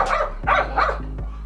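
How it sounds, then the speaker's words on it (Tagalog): A dog barks close by during a motorcycle mudguard installation, two or three sharp barks in quick succession over a low steady background hum. "pasensya na sa ingay ng aso"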